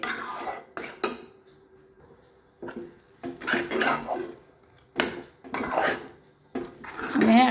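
Coconut sweet mixture being stirred in a pan over low flame, with intermittent scraping and clanking of a spoon against the metal in separate strokes.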